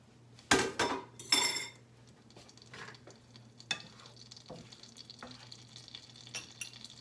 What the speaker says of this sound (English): let's go ahead and drop the eggs in